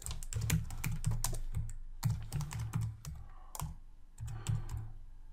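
Rapid keyboard typing entering a chart title in Excel 2016, close and clear, in several quick bursts of key clicks with brief pauses, no talking.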